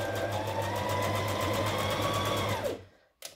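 Domestic sewing machine running a dotted zigzag top stitch with grey thread on a body suit, a loud rapid mechanical whir with fast regular needle pulses that stops, then a brief clack.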